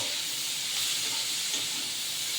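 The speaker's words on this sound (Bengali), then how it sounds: "এবারে নাড়বো একটু, এই যে নাড়াচাড়া করবো।" Fried spices and carrots sizzle in a hot pan while being stirred, a steady close hiss of frying with no voices.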